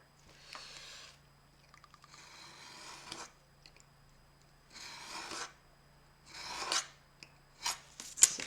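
A craft knife cuts through cardboard in several separate rasping strokes with short quiet gaps between them. The sound is close and fairly soft, and a sharper click comes at the end.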